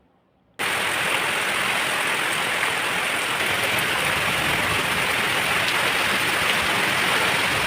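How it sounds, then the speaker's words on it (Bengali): Heavy, steady rain pours down, a dense continuous hiss that starts abruptly after a brief near-silence and holds loud and unbroken throughout, with no voices. "আপনাদেরকেও একটু বৃষ্টির সাউন্ড শুনিয়ে দিলাম, আশা করি বুঝতেই পারছেন কি পরিমাণে ঝুম বৃষ্টি হচ্ছে।"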